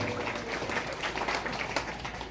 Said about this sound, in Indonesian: Tepuk tangan para santriwan santriwati.